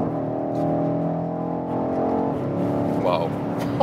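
A BMW X6 M Competition pulls through its gears under hard acceleration, a steady engine drone with audible shifts, the tone dropping near the end; someone talks over it.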